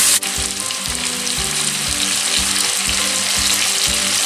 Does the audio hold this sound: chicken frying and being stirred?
yes